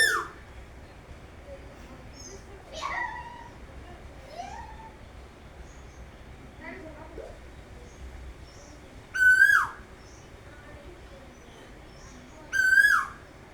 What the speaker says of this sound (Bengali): এই কোকিলটা এত সুন্দরভাবে ডাকতেছে, আর একদম গাছের মগডালে বসে